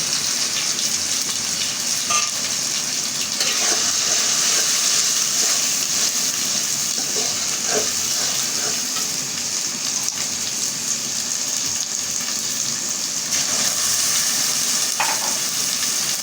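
Ground cumin, turmeric, chili powder and salt with a splash of water sizzle and fry steadily in a pan for bhuna khichuri, a loud, close, continuous hiss broken by occasional stirring scrapes.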